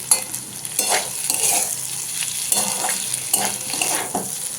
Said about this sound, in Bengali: এটা পুরো লাল লাল করে ভাজা হবে।